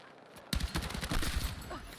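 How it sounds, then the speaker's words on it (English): A rifle is tap-fired in the video game Battlefield 6. After a brief quiet moment it cracks into a rapid string of sharp shots that ring out and fade away. "Perfect tap firing, look at that."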